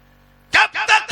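A hen clucking at a mosque gate, heard as three or four loud, close, harsh bursts in quick succession after a brief quiet start.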